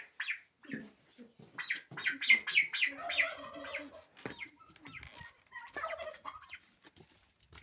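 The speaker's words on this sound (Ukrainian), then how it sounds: "От така в нас індичка." A domestic turkey hen on a farm, being settled onto eggs, gives close gobbling and squawking calls that come in clusters, mixed with quiet handling sounds.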